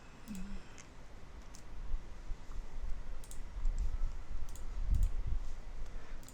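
Sparse, sharp mouse clicks on a web page element while testing event handling, several isolated close clicks spread over a quiet room background with faint noise.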